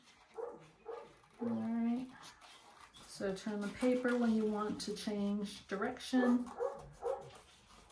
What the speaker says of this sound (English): And sorry about that, that's my dog.